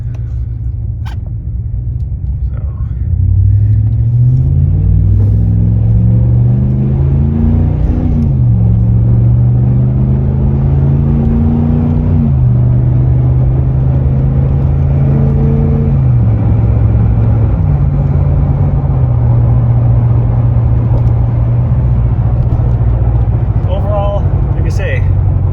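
A 2018 Ram Classic pickup with a Solar Performance Mach 44 catback exhaust accelerating, its deep loud engine rumble rising in pitch through several gear shifts, heard steadily and close for the whole stretch.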